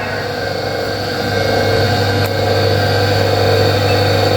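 An electric motor runs steadily at constant speed while its rotation is measured with a tachometer, a continuous close hum with a strong low tone and whining harmonics, loud and unchanging.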